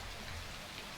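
Heavy rain pours down steadily at night, a dense continuous hiss of drops with low rumbling underneath, unbroken and fairly close throughout.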